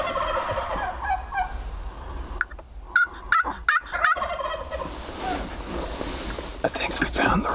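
Distant wild turkey calls ring out repeatedly at a roost over steady low background rumble, a burst of sharp gobbling in the middle, with faint voices around.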